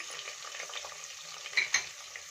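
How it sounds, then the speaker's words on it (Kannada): Sliced onion frying in oil for paneer pulao, a bright steady sizzle with light stirring and a couple of metallic utensil clinks against the pan. "ಒಂದು ಈರುಳ್ಳಿನ ಸ್ಲೈಸ್ ಆಗಿ ಕಟ್ ಮಾಡಿ ಸೇರಿಸ್ಕೊತಾ ಇದ್ದೀನಿ."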